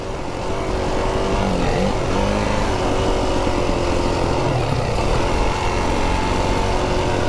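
Yamaha motorcycle riding along trails in Wales, its engine droning steadily and loudly close by for the whole stretch, with no talking.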